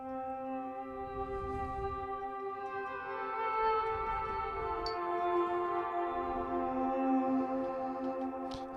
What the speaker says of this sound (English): The sounds you're hearing are from Analog Lab